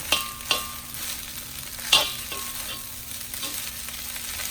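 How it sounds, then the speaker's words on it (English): Fried rice with egg, Vietnamese pork sausage and Chinese sausage is stirred in a hot pan to break up clumps. A constant sizzle runs throughout, punctuated by a few distinct spatula scrapes and clacks. "So I do want to get the rest of this rice broken up. Stir it in with the egg, get it incorporated."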